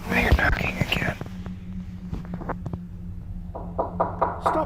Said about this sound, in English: Stop knocking.